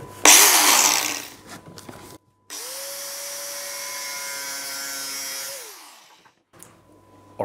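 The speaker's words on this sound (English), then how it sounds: "an angle grinder to cut a little bit of plastic" A power tool whines steadily for a few seconds as an angle grinder cuts through a small piece of plastic, preceded by a brief loud burst of noise, close and alone.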